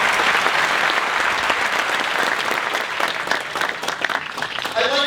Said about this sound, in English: so please join me in applauding that.